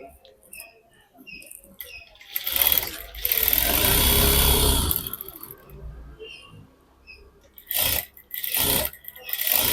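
Sewing machine stitching blouse fabric in a burst of mechanical whirring and patter, with shorter stitching runs later and quiet pauses in between.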